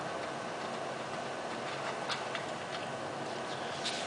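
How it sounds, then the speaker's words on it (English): Hand Allen key (7/32) backing out the top bolt on a Covana height-adjustable frame's extrusion, giving faint, steady ticking clicks like a ratchet at close range, with no talk. "7/32 Allen key to remove the top bolt."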